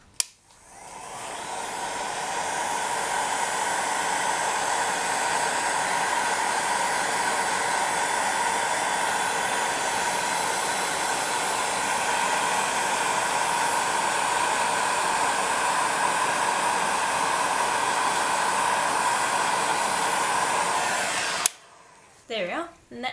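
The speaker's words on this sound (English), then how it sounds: "Then I'll grab my heat gun." A heat gun blows steadily and loudly for around twenty seconds while setting polymer clay earrings, a constant broadband hiss that starts abruptly and cuts off near the end, leaving brief faint handling noises.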